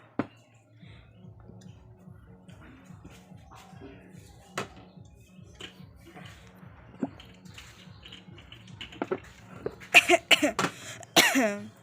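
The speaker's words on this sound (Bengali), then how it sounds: "কাশি হয়ে গেছে" A person coughs several times in a loud, harsh burst near the end of a quiet, cold, foggy morning scene. Faint rhythmic ticking and small clicks come before it.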